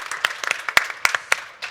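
Scattered claps from a conference audience at a women's entrepreneurship event, a few distinct sharp hand claps spaced irregularly rather than a full ovation.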